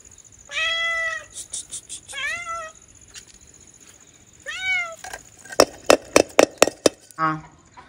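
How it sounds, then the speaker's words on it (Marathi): A hungry village cat in rural Konkan meows close by, smelling fish being served, with three drawn-out mewing calls followed by a rapid run of sharp clacks and a final short meow, amid light background noise. "ही मांजर, पण तिला भूक लागली ती आमच्याकडे येते"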